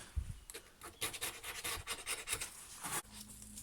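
Residue being scraped off the blades of a STIHL HS56 hedge trimmer, a faint, close rasping rub repeated in uneven strokes.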